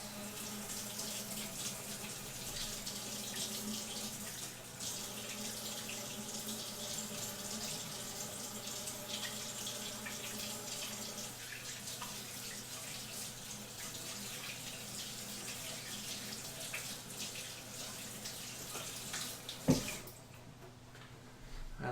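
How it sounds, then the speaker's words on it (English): Tap water running steadily into a kitchen sink while hands are washed, a continuous close splashing rush lasting about twenty seconds, then a clunk as the faucet shuts off. "I'm just gonna wash my hands"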